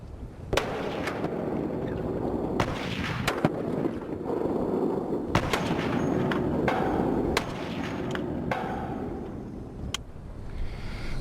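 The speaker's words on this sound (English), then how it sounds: "When you shoot a Barrett, you know it." A Barrett rifle fires a series of sharp, booming reports at irregular intervals, each a loud crack over a continuous rumbling background.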